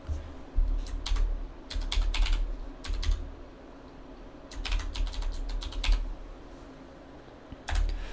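Bursts of rapid clicking keystrokes on a computer keyboard, close by, arriving in uneven runs separated by short pauses over a low background hum.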